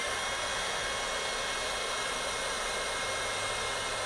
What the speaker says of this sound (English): And then we'll just heat set this.